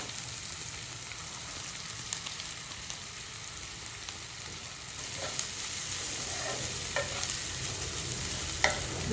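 Bitter gourd frying in oil with softened tomato and onion gives a steady close sizzle, broken by a few faint scraping stirs near the end.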